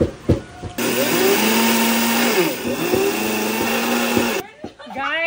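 A blender whirs loudly and steadily for several seconds, then cuts off, followed by brief voices.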